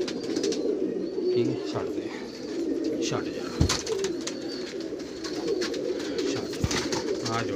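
Pigeons of mixed fancy breeds, including golden and red-eyed birds, coo in soft repeated low calls throughout, with a few sharp knocks and a brief spoken remark nearby.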